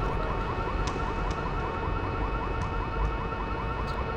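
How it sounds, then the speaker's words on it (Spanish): A car horn blares repeatedly in the video game Rainbow Six Vegas, a steady wailing alarm-like tone that holds for the whole stretch over dense low background noise and distant game sounds. "es bastante molesto el ruido de el claxon de un coche"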